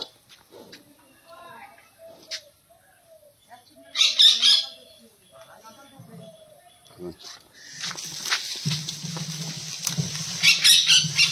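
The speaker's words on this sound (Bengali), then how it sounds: "মিঠু পাখি ডাকছে" A pet parrot squawks in bursts at a busy cattle market, the harsh calls sounding close and loud and mixed with people talking nearby.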